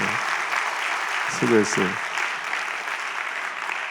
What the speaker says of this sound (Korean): 우리 교사들 한번 박수, 한번 격려의 박수 한번 줘주십시다.